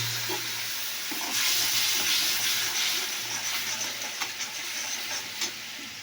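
Fish frying in hot oil in a home kitchen, with chilli and salt added: a steady, close sizzle and hiss that swells and crackles throughout, with no talking.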